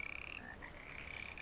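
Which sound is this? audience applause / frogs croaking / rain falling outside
frogs croaking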